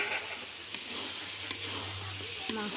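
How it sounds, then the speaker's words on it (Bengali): Chicken pieces with tomato fry in a pan, a steady sizzle with a few scraping stirs and a faint voice underneath. "দিয়ে ভালো করে নেড়ে চেড়ে নিচ্ছি, ভালো করে কষিয়ে নেব।"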